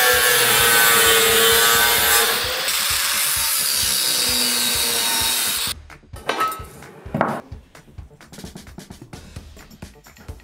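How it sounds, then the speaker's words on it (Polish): Angle grinder cutting a steel profile for a bike rack, a loud continuous high whine for about six seconds that stops abruptly, followed by scattered metallic clanks and handling noises. "Mamy wyrysowane linie cięcia dla szlifierki kątowej."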